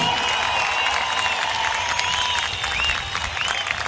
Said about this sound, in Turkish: Değerli saz ve korist arkadaşlarım için kocaman alkış istiyorum